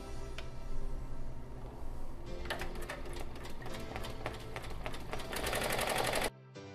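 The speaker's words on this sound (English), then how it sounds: "So we're all gripped up and we are ready to start our embroidery." An Avance 1501c (2020) embroidery machine stitches a design onto a hip pack, making rapid, clattering mechanical stitching that grows busier before stopping abruptly, leaving a quiet hum.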